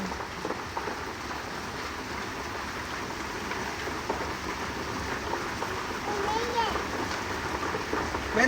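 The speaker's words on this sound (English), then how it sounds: "It's hailing." Hail falling outside a home, a steady dense patter of ice striking surfaces that thickens slightly toward the end, with faint voices in the background.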